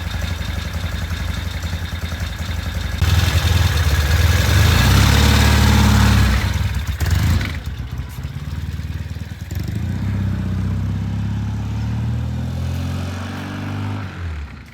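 Vintage Norton motorcycle ridden and shifted through gears, a loud close engine drone that surges and revs, drops briefly at a gear change, then settles into a steadier running note.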